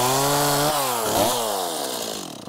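A chainsaw cuts into a buckthorn shrub, its engine whining loud and close, then bogging down and shifting pitch as the chain bites the wood before easing off.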